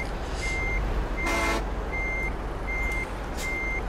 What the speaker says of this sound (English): Who the hell is beeping?